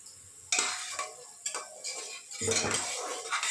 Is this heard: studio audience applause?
no